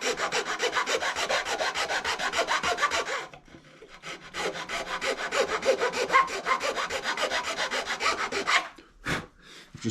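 A fine file rasps back and forth across the fret ends on a Stratocaster build, a fast, even series of close scraping strokes with a short pause midway before the filing resumes, ending in a few slower strokes.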